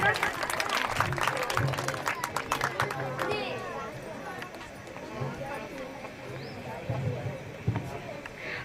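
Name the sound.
audience applause welcoming a performer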